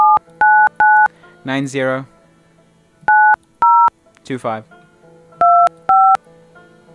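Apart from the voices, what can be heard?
phone dial pad keypad tones while dialing a number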